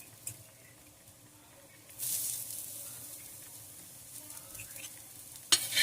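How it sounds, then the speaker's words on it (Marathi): Grated fresh coconut roasts in a pan with onions, giving a quiet, soft sizzle broken by a couple of brief stirring scrapes. "ओलं खोबरं सुद्धा आहे ना चांगलं लालसर होईपर्यंत परतून घ्यायचं"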